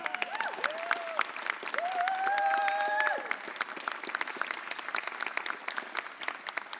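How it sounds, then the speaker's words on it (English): An audience applauding workers at a mayor's press conference, moderate clapping from a crowd held at a steady level for several seconds, with a high whistling tone rising briefly over it. "So let's give our workers another round of applause."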